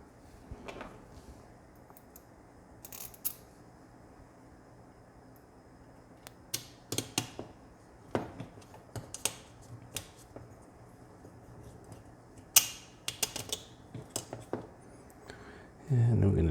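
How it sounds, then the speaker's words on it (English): Small 3mm screws being driven into a vintage Kyosho Optima 4WD RC car during assembly, heard as scattered close clicks, taps and handling rattles in short bursts with quiet gaps between them. "Got to screw that down. I'm going to need 2 long 3mm screws that go in there."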